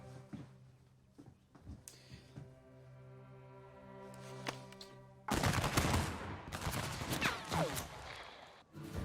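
Gunshots in a film clip, a sudden loud burst of rapid gunfire erupting after a quiet, tense stretch of music and faint sounds, continuing as a dense barrage with some crashes.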